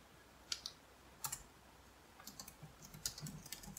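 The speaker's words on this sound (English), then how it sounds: "Oh, I can't type. I'm using a different keyboard. I'm really struggling to type." Quiet, close keystrokes on a computer keyboard: a few isolated taps, then a quicker irregular burst of clicks and presses, with no voices.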